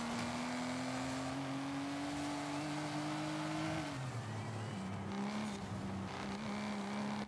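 A 2019 Aston Martin DBS Superleggera engine in Forza Horizon 5 drones loud and close in a steady high rev, dips sharply as it shifts down, then settles into a lower, rougher pull with road noise throughout.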